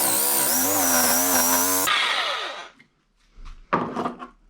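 A jigsaw cuts through PVC pipe for a cart build, loud and buzzing for about two seconds before spinning down, followed by brief rattling and plastic handling noises.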